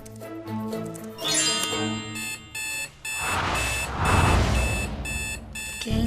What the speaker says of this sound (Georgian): ახალგაზრდა მამაკაცმა მაღვიძარის ზარი გაიგო, მაგრამ გაღვიძება არ სურდა.